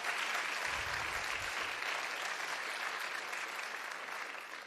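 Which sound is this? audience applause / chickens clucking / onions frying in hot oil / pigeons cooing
audience applause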